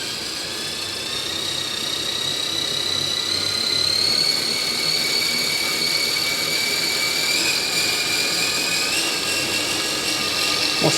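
An RC car electric motor runs wide open at full throttle on a dyno, giving a steady high-pitched whine that holds loud and constant, with a slight rising pitch shift toward the end.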